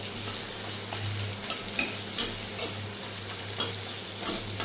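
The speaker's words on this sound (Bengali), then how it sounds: "সেই পেঁয়াজগুলোকে দিয়ে দিলাম। এখন এটাকে ভালো মতো ভাজতে হবে" Chopped medium onions fry in a pan with a constant, close sizzle, punctuated by regular spatula scrapes and stirring strokes every half second or so.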